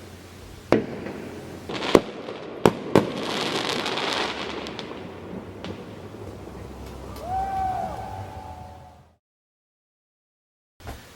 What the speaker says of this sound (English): there are fireworks just at the other side of the river.